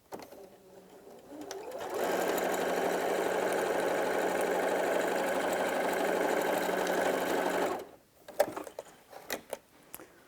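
A sewing machine stitches a hessian bag, whirring steadily and continuously for about six seconds before stopping, followed by a few close handling clicks and rustles of the fabric.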